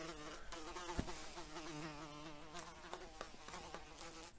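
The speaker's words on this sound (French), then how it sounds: "Vous l'avez vu, cette énorme mouche?" A large fly buzzes indoors in November, a faint, steady drone that continues unbroken with small wavering changes in pitch and no voices over it.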